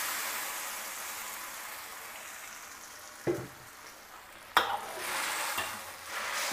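Tomato juice poured into a hot wok with fried ginger for a basa fish dish, a steady soft sizzle with two sharp splashy bursts as liquid hits the pan, alone without talk.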